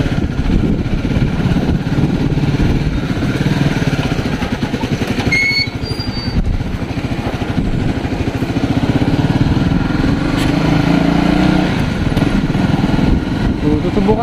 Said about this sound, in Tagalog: ngayon i-road test naman natin ng may fairings